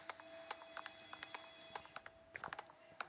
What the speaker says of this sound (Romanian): Sună telefonul.